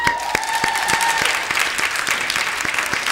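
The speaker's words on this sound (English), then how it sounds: "Give them a round of applause." An indoor audience at a students' union election question time claps steadily, a dense close round of applause with a faint tone early on and no clear speech.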